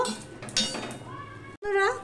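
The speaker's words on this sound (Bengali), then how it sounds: "এবার আমি গ্যাসটা অফ করে কড়াইটা খালি করে নেব।" Half-boiled cabbage emptied from a wok with the gas off, with bright metal clinks and scraping of the pan, close up, and a voice talking over part of it.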